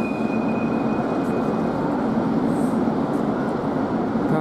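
Riding inside the carriage of a double-decker passenger train produces a loud, continuous rumble and roar with steady rolling noise, a faint whine and occasional light knocks, and no talk.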